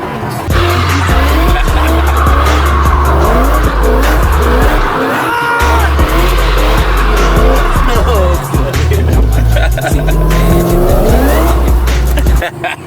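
A car doing burnouts in a store parking lot gives loud, sustained tire squeal and skidding over a deep revving engine roar for about thirteen seconds, close by, with pitch wavering as the wheels spin and brief dips in the noise.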